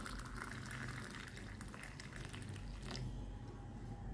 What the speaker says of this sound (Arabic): دلوقتي بقى هننزل عليها كده بكوباية مية مغلية